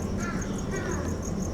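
A bird in a zoo aviary gives a series of harsh, crow-like squawks and caws, repeated in a quick rhythm over a busy background murmur.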